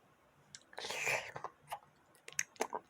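Close, quiet chewing of jjapaghetti noodles, with soft wet smacking and slurping bursts coming in irregular clusters, some brief crunchy clicks, and faint breathy whispery sounds between bites.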